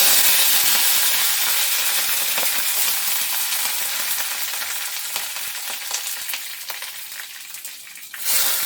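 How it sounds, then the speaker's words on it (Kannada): Mustard seeds, curry leaves and garlic frying in hot oil, a steady bright sizzle with faint crackles and pops that slowly fades as it goes on, with no talking over it. "ಎಲ್ಲ ಚೆನ್ನಾಗಿ ಫ್ರೈ ಆಗಲಿ."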